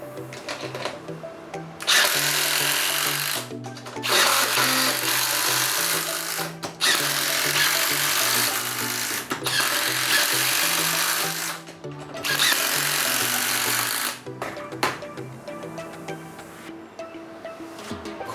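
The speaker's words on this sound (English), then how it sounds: "So next, let's get into the fastener and the drilling tests." Makita and Metabo HPT subcompact drills drive quarter-inch by six-inch lag screws, three loud sustained bursts of whirring, straining motor with clicking gaps and quieter pauses between each run.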